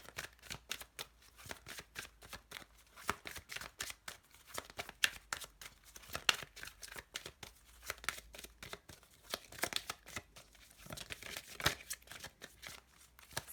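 A deck of tarot cards being shuffled by hand: soft, quick riffling and flicking bursts in an irregular rhythm, close and fairly quiet, with no voices.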